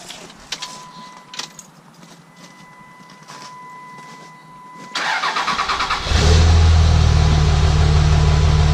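A Cummins diesel truck engine is keyed on: a fuel pump whine and faint clicks come first, then the starter cranks briefly before the engine catches and settles into a loud, deep, steady idle close by.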